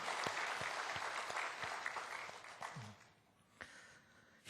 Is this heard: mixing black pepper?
no